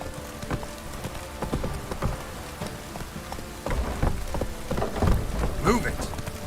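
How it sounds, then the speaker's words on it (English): Heavy rain pours steadily in The Witcher 3, with rumbles of thunder and hoof clip-clops beneath the hiss, which grows louder partway through. Faint voices are barely audible. "This downpour's a bastard,"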